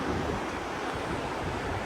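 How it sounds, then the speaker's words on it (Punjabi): A dense, even roar of river water flowing during rain in the hills near Palampur, steady and fairly close, mixed with wind rumble on the microphone and no talking. "ਨਦੀ ਦਾ ਵੀਊ ਦਿਖਾ ਦਿੰਨਾ ਪਾਣੀ ਦੀ ਆਵਾਜ਼"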